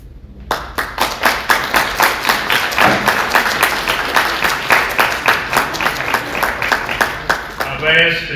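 An audience at a public meeting about solar gives sustained applause, dense rhythmic clapping that continues steadily throughout at a loud, close level.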